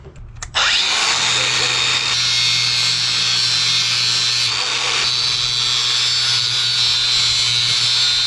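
Power tool grinding a slot into the heads of carriage bolts, starting abruptly after a short pause and running as a loud, continuous high whine for the rest of the clip.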